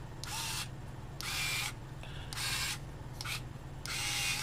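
A PKEY CS1931A cordless screwdriver runs at full torque in several bursts, each a loud mechanical whir of under a second, separated by short pauses over a steady low hum.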